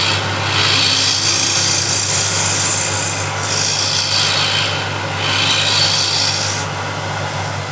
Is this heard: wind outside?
no